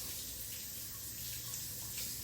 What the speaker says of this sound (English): put my water on lightly so that I don't mess up the flowers, and just kind of rinse it off using the sink